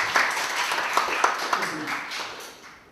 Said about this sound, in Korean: 박수로 초청해 드리겠습니다.